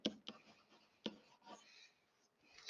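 A pen or pencil writes a formula on paper in a quiet room, giving a few soft scratchy strokes and taps with brief pauses between them, close and faint.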